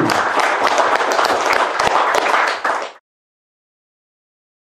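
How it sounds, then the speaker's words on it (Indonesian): An audience applauds at a talk on a well on the slopes of a mountain, a loud, dense burst of clapping that lasts about three seconds, then cuts off into silence. "mari kita beri tepuk tangan untuk Mas Ibu"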